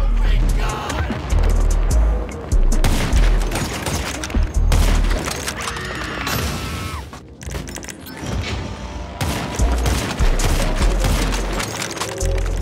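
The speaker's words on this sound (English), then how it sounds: "He enabled a rapid fire mod that allows him to shoot his sniper like a minigun." Sniper rifle fired in rapid succession like a minigun in GTA V Online, a dense, loud, continuous burst of gunfire with heavy booming low end and only a few brief pauses.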